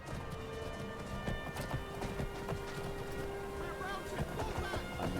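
Hooves clip-clop at a gallop in the Skyrim-based Wildlander game, with a horse whinnying and music playing underneath.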